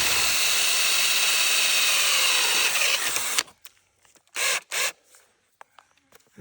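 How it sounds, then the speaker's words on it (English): An old power drill bores holes in model railway track sections, a steady close whir running for about three seconds before stopping, followed by two short bursts and a few light clicks. "This is an old drill."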